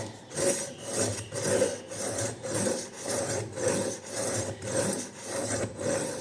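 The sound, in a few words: knife sharpened through middle grit of IKEA SKÄRANDE sharpener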